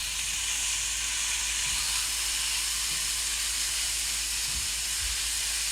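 Onion sizzles in a hot pan during healthy Chinese-style home cooking, a steady, dense hiss that holds evenly throughout, with a few faint low knocks and no talk.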